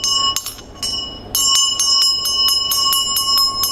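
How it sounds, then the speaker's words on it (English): A small Tibetan Buddhist ritual bell rings repeatedly in a steady, bright shimmering rhythm, close and loud, with a brief pause before resuming continuous ringing. "You start with the bell, and then the damaru. Then you end with the damaru, and then the bell stops."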